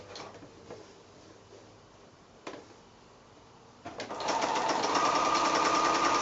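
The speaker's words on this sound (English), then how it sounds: "I'm going to take 2 rows and sew them together" A sewing machine runs as two rows of quilt patches are stitched together: a few quiet clicks and handling taps, then a steady close mechanical whir with a rapid needle rhythm.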